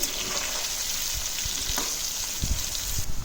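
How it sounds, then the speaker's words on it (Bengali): Potatoes with turmeric sizzle in hot oil in a pan, a continuous close frying hiss broken by low thumps of stirring, with no voices. "এবার এই আলুগুলোকে লাল লাল করে ভেজে নেব।"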